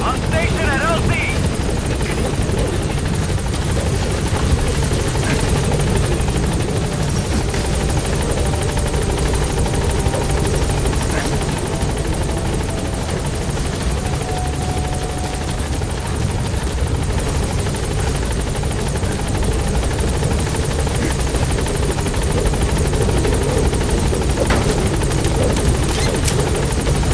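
The Pequod helicopter in Metal Gear Solid V arrives at the landing zone, its rotor and engine drone loud and constant throughout, with a radio voice talking over it.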